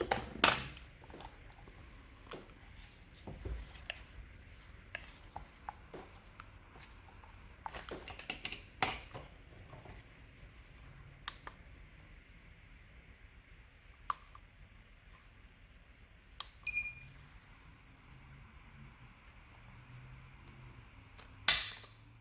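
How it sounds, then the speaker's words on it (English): Dry-fire trigger pulls on Staccato P and Bul Armory SAS2 Tactical Government pistols on a tabletop, a series of sharp, close, isolated clicks spaced irregularly over quiet background. "We'll do some trigger pulls."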